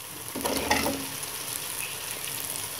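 Potatoes dropped into hot frying masala for aloo matar tinda, a loud close sizzle flaring up at once and then settling into a steady dense hiss.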